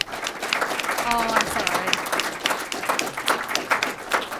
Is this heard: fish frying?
no